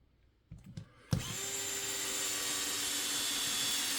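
A DeWalt power drill spins up after a few faint knocks and then runs steadily with a high, even whine, close and loud, during a brushless servo install on a RedCat Gen8 crawler.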